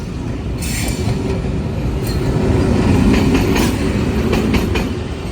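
Shah Hussain Express, a Karachi–Lahore passenger train, pulling into Dig Road station: a steady, loud rumble of rolling wagons with rhythmic wheel clatter and brief high squeals from the rails, continuous throughout.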